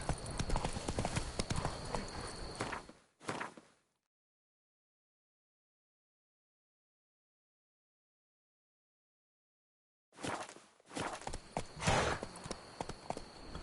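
Roach the horse walking in Witcher 3: Blood and Wine, with rhythmic hoof clip-clops at the start, then total silence, then the hoofbeats resume near and moderately loud.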